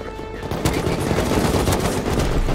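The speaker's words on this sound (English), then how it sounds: "I shot Liam in front, Liam." Rapid gunfire from the survival video game Rust, a dense, loud burst of repeated shots running continuously throughout with no talk over it.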